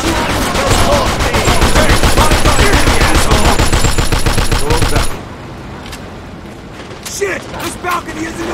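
Automatic gunfire rattles in the video game Mafia II during a balcony shootout, a dense, loud burst of rapid shots for about five seconds, then quieter scattered shots and shouting voices.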